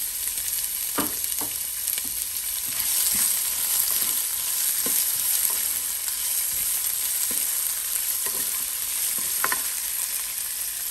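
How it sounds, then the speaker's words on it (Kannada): Chopped large onion frying in a pan for bitter gourd fry, a steady close sizzle with scattered scrapes and taps of stirring throughout, no voices. "ಸೊ ಈಗ ಇದಕ್ಕೊಂದು ದೊಡ್ಡ ಈರುಳ್ಳಿನ ಹಾಕ್ತಾಯಿದ್ದೀನಿ, ಕಟ್ ಮಾಡಿರೋದು."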